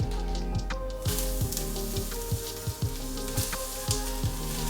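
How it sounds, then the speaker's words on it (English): Tempeh slices fry in oil in a cast iron pan, a close, lively sizzle with a bright hiss and rhythmic bubbling pops throughout. "I've been warming my cast iron pan with some oil in the bottom. I'll chuck those slices in"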